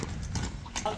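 A three-year-old horse steps in a quick series of hoof clip-clops, close and moderately loud, while someone talks over them.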